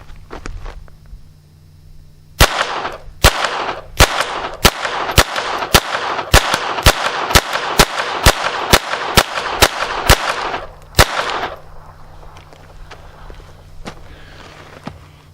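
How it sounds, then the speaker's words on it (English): Taurus TX22 .22 pistol firing Winchester white box rounds outdoors, with a rapid string of about fifteen sharp, loud shots at a fairly even pace, followed by a quieter tail. "let's load this up and try it again. 16 rounds of Winchester white box."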